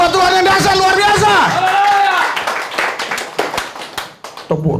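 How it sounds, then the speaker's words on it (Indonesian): A church congregation claps hands during a sermon, scattered sharp claps and taps following a loud sung or shouted voice, with crowd murmur around them. "Tepuk tangan aja gini-gini."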